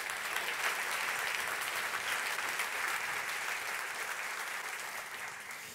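A keynote crowd at a tech conference party applauds steadily, a dense, continuous wash of many hands clapping that stays fairly even and slightly distant before easing off at the end.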